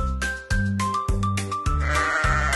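A lamb bleats over and over, with about five close, loud, wavering cries in quick succession and no other sounds between them.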